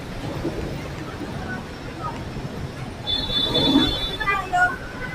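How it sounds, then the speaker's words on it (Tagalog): Overhead LRT train running above a busy street in Quiapo, Manila, a rumbling, rising pass with metallic squealing tones toward the end, mixed with traffic noise and people talking nearby. "Ito yung sakay ng LRT, oh,"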